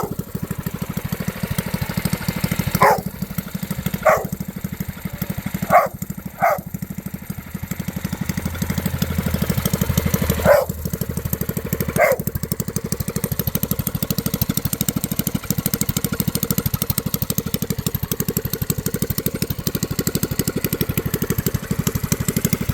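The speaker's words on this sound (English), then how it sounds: "I'm gonna let it go ahead and cut the gas off and let it kind of idle down there" A mini bike's small engine idles down after the throttle is cut, holding a steady low running drone. A few sharp clicks or knocks stand out early on.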